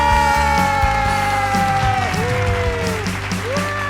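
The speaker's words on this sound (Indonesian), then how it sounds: "Tepuk tangan." Applause and cheering break out at an online church worship service, clapping and whoops blending with sustained instrumental music chords underneath.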